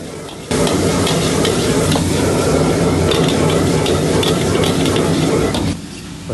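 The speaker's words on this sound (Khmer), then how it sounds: "រួចហើយយើងឆាឲ្យសព្វដើម្បីឲ្យចូលជាតិ" Minced pork belly and spices stir-fried in a hot pan for a Chinese-style long eggplant dish, a loud continuous sizzle and scrape of stirring that starts abruptly and runs steadily for several seconds before cutting off.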